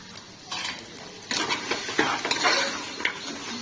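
Chili powder and salt are stirred into a bottle gourd tamarind curry, with a spoon scraping and clinking against the pan in irregular strokes over a soft background simmer.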